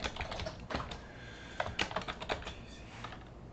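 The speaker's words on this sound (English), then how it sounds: "So I just need to start typing it." Fingers type on a computer keyboard, a steady run of close, crisp key clicks with uneven rhythm and a few louder bursts of strokes, with no voice over them.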